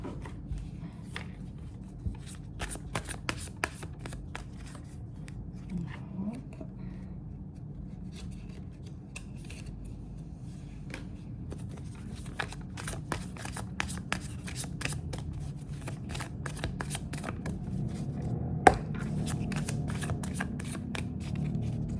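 Oracle cards being shuffled by hand, a soft papery riffling and rubbing that comes in irregular bursts over a low room hum, quiet and close, with no talking.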